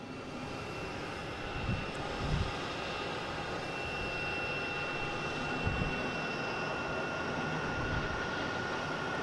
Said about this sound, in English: We got a JetBlue backing up here.